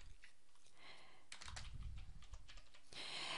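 Computer keyboard typing while invoice billing details are entered in accounting software, a steady run of close, bright key clicks with busier bursts partway through and no talk.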